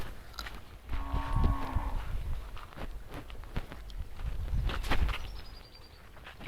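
A single cow lets out a drawn-out, low moo lasting under a second, close by, with a few scuffing footsteps and light farmyard noise around it.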